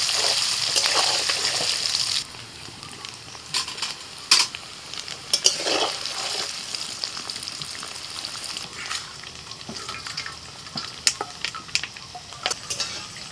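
Spiced paneer coated in chilli powder, turmeric and salt drops into hot oil and fries with a steady bright sizzle, punctuated by stirring clinks and spatters.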